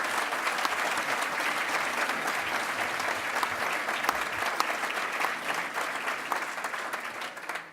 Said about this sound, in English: Please give them a round of applause for their support